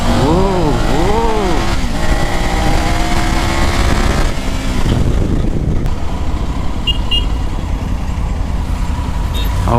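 A Triumph Tiger 900 motorcycle accelerating hard on mountain roads in Ladakh, the engine note rising and falling loudly and close, with a rider's voice over it.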